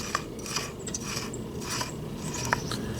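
An oil filter being threaded by hand onto a car engine, producing close, quiet scraping and clicking of threads, with small ticks and rasps spread irregularly over a low background hum.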